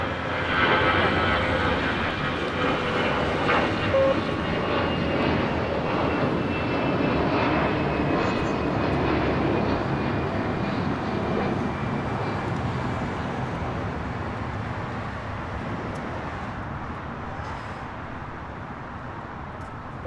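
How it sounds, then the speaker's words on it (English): A Delta Airbus A319 takes off from runway 25 right at LAX with a loud, sustained jet engine roar. The roar is strongest early on and slowly fades as the plane climbs away. "Next up, a Delta A319 heading to Las Vegas."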